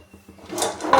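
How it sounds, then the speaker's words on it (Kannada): A mixer jar grinding masala for home-style chicken sambar, its motor starting after a few soft knocks and swelling into a loud, rough whir that keeps building to the end. "ನಾನೆಲ್ಲ ಜಾರ್ಗೆ ಹಾಕ್ಕೊಂಡು ರುಬ್ಕೊಂಡು ಬರ್ತೀನಿ."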